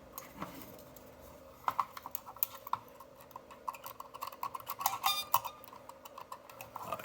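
Quiet scratching and scraping of picks roughing up a surface inside a scanner, with sharp little clicks and ticks, coming in irregular bursts that get busier as it goes on.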